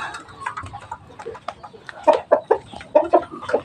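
Hens cluck in the morning in short, close bursts that grow louder and more frequent toward the end, with soft background noise.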